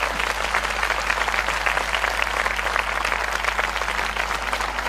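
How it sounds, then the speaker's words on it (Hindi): A church congregation claps for its leaders, dense steady applause from a large indoor crowd filling the whole stretch at high volume, with no pauses. "आइए हम अपने अगुओं के लिए एक अच्छी ताली बजाएंगे।"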